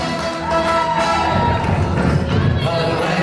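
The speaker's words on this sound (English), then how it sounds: "Give a big cheer, a big round of applause." Wedding guests cheering and applauding, a loud, continuous crowd roar of cheers and clapping with voices mixed in.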